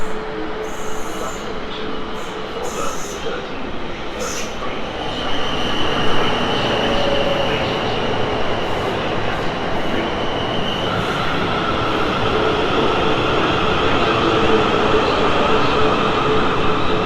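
A South Western Main Line train runs through Farnborough Main station with a steady, loud rumble and wheel noise. Faint squeals and rail clicks sit over it, close by and sustained throughout.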